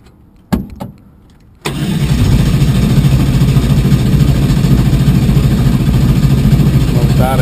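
A twin-turbo LS-swapped Z28 drag car for Drag Week 2012 cranks in two short bursts, then fires and settles into a loud, steady, rumbling idle up close.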